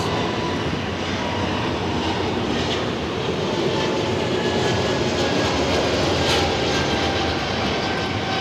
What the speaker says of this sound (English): we've got an Edelweiss 340 pushback as well